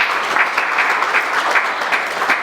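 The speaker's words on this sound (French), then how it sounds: "que je vous prie d'applaudir très fort" Steady applause from an audience at a marketing club's first-edition event, dense and continuous clapping filling the room with slight swells, fairly close and with no voices over it.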